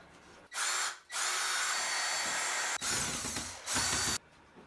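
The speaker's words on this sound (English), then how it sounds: "I'm just gonna do pilot holes" A power drill boring pilot holes through freshly hung drywall during a bathroom shower remodel, with two bursts of steady whining spin, a short pause, then a longer run that bogs and revs as the bit bites, close and loud.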